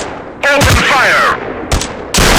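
Automatic weapon fire in a mobile FPS war game on an Android phone: loud, close bursts of rapid shots in several quick volleys, with a brief electronic voice callout between them.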